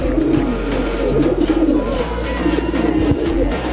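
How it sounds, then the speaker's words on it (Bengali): Male and female pigeons coo steadily and close by, a low rolling murmur repeating throughout with no voices over it. "এটা হচ্ছে নর কবুতরটা, আর এটা হচ্ছে মাদি কবুতর।"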